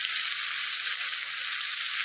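Tomatoes frying in a hot pan after salt has been added, during preparation of an egg curry, producing a constant bright hiss of sizzling that holds level throughout with no voices.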